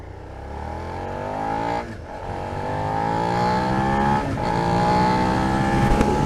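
A 2020 Suzuki SV 650 motorcycle engine revving, a loud, low rising-and-falling drone with repeated climbs in pitch and brief dips between gear changes, heard close and alone.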